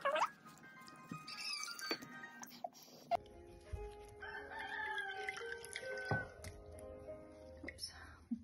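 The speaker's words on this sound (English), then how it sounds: "Oh, that stupid cockerel." A cockerel crows in the background of an indoor felting session, its calls rising over intermittent speech, splashing and handling noises; the crowing is moderately faint and mixed in among the talk.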